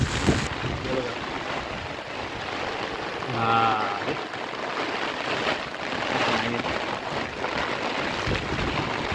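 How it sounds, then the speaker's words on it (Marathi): Continuous heavy rain roars across the whole stretch in a Konkan forest, with a brief burst of talk in the middle under the downpour. "पाऊस बघा काय लागतोय बेकार पाऊस लागतोय"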